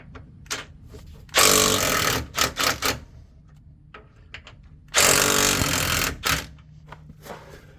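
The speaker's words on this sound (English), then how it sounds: "Now you do want to loosen the sway bar bolts" Power tool loosening sway bar bolts on a 2020 4WD Silverado during a leveling kit install, two long loud bursts of whirring and rattling impacts, each about a second, separated by shorter blips and quiet clicks.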